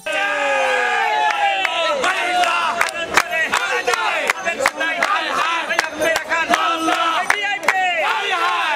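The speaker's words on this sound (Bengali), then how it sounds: "হাকডাক, হাততালি আর তালে তালে চলছে অ্যাকশন।" Fruit vendors at a market call out loudly in overlapping, sing-song cries, with sharp handclaps punctuating the rhythmic shouting throughout, close and busy.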